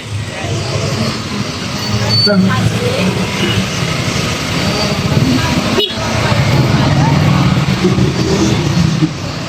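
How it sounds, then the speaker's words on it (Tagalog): A bus moves through congested traffic during a rally at Liwasang Bonifacio, its engine a loud, close rumble swelling and easing among other vehicles, with voices talking over it. "Itong bus na ito makyat na sa gutter ito."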